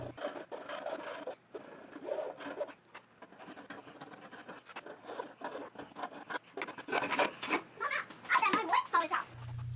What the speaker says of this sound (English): so I came in with a file.